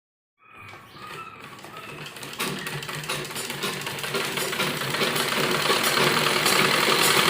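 A sewing machine running up close while stitching a salwar, starting after a short silence and building into a loud, continuous, rapid mechanical whir that grows steadily stronger.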